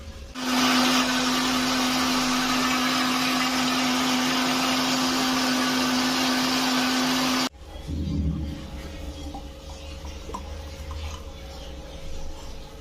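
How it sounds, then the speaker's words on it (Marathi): A kitchen mixer grinder whirs loudly and steadily for about seven seconds as it blends peeled pomegranate into juice, then cuts off abruptly, leaving quiet room noise. "अशा पद्धतीने तुम्ही मिक्सरमध्ये त्याचा व्यवस्थित ज्यूस करून"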